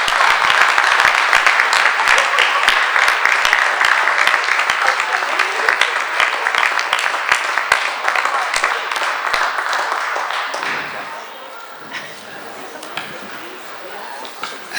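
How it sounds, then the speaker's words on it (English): A room full of people at a school board meeting applauds a middle school student of the month. The clapping is steady and dense for about ten seconds, then thins out and fades into quieter room noise. "Please join me in one more round of applause for Hoboken Middle School Student of the Month"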